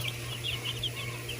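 Chickens cluck softly in a coop shared with meat birds, with quiet, repeated short clucks over a steady low hum.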